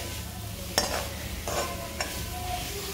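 Grated coconut roasts in ghee while a spoon stirs it, giving a soft continuous sizzle and a few sharp scrapes against the pan, close and alone.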